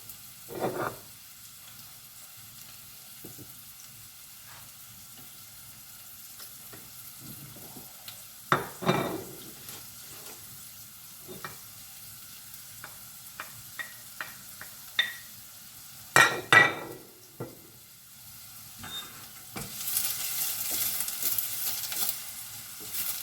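Onions and ginger fry for a Thai shrimp soup in a quiet kitchen, with a faint low sizzle broken by occasional utensil clinks and stirring knocks, then a brief louder hiss near the end.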